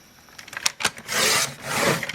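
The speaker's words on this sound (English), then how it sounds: "I'm going to cut my handle at 1/2 inch." A craft handle for a shaker treat box cut to length, heard as a few sharp snips and taps followed by two longer rasping strokes, close and fairly loud, with no talking.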